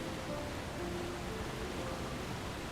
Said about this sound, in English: Must check behind waterfall.